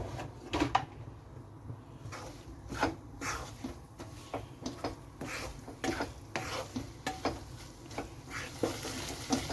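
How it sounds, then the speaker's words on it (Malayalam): Mussels fry in coconut oil in a pan, with soft sizzling under repeated scraping and stirring knocks of a utensil against the pan, quiet and irregular throughout. "ഇനി ഇതിലേക്ക് എണ്ണ ഒഴിച്ച് കൊടുത്ത് നമുക്ക് ഫ്രൈ ചെയ്തെടുക്കണം"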